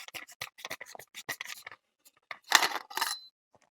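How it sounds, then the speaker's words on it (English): The outer barrel of an SSG10 airgun rifle is being unscrewed, heard as a quick series of close, light metallic scratching and clicking threads, then a brief louder scrape, with no speech. "Now this allows you to unscrew the outer barrel."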